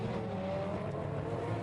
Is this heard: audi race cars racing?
yes